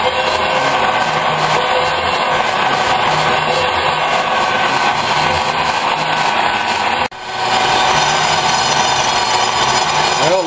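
A large metal lathe takes a light finishing pass on steel plate, thinned from 3/8 to 1/4 inch with a high-speed steel tool. A steady, loud machining drone runs unbroken throughout, with a brief dip near the end.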